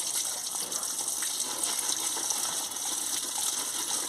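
Ground prawn paste being rinsed with water, a steady close gush of running water like a tap filling a bowl, continuous and fairly loud throughout with no talking.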